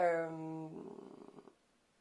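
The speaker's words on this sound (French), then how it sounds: "regardez, c'est des chats" A cat purrs softly and close, a rough low rumbling that flutters for about a second after a brief voice is heard.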